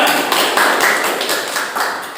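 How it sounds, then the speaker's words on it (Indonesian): A classroom of students claps loudly and steadily, a dense wash of many hands with small surges in rhythm, continuing without pause for a couple of seconds and no talking over it. "Tepuk tangan yang keras dulu semua"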